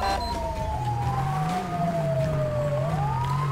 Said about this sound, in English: My ambulance is arriving on scene here.